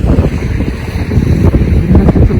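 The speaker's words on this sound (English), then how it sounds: "It's pretty windy" Strong, steady wind buffets the microphone on a snowy New York City street, a dense continuous roar and rumble that rises and falls in gusts, with no talk.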